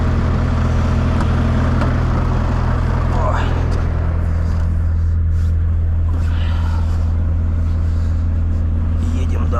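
A Volvo FH 540 truck drives a taiga road toward Yakutsk, its steady low engine drone and road rumble filling the cab continuously, loud and unbroken, with a voice speaking briefly over it.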